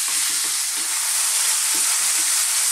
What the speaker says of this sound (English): I'm just going to stir fry this around, keep turning it over all the time.